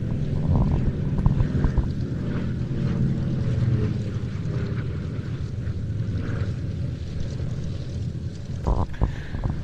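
A Lockheed 12A twin-engine aircraft at the Duxford flying display gives a steady, rumbling engine drone with wind buffeting the microphone, loud and continuous with no voices.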